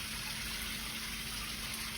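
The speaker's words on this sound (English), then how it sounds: "Now top spray out the water." Water streams steadily from the top spray of a solar smart shower panel, a continuous even hiss of flowing water with no pauses.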